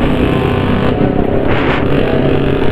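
A carbureted Honda Beat scooter engine runs steadily and loudly near the microphone, a constant buzzing drone with a slight rise in pitch partway through.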